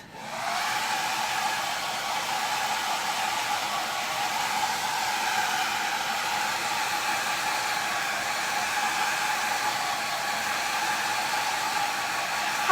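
A handheld dryer blows continuously to dry ink on a Chalk Couture Christmas pillow, a steady loud whirring hum that starts at the beginning and holds unchanged.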